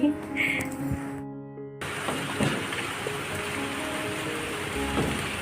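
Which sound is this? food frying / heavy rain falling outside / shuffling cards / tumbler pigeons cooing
heavy rain falling outside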